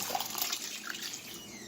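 Coconut milk pours into a cooking pot of carrots, pumpkin, chive and a little warm water for Trinidad pelau, a brief, soft, steady liquid splash close by.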